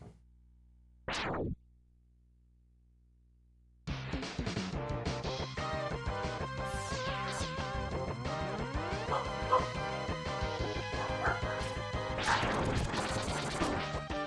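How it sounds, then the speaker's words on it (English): Pet dogs barking excitedly at something near a freshly sealed driveway, their repeated barks mixed under loud, continuous retro video game music. "My dogs are losing their mind."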